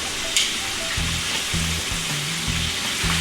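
A bloomin' onion deep-frying in hot oil gives a steady, close sizzle with soft crackle and occasional low bubbling pulses, no voices over it.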